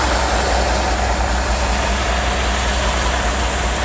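A log loading truck's engine runs close by with a loud, steady low rumble and an even idle that holds for the whole stretch, with no talking over it.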